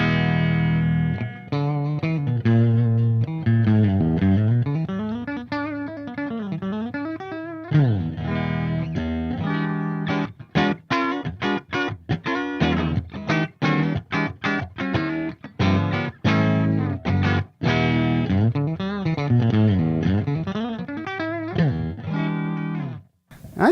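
A Stratocaster bridge pickup played through a Ceriatone AH50 high-gain amplifier with every control on full, giving loud, lightly driven woody chords and fast single-note runs that go on without a pause.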